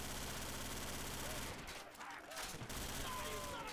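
Rapid gunfire from Call of Duty: World at War custom zombies keeps up a dense, continuous burst of shots, breaking briefly before resuming, with players talking over it.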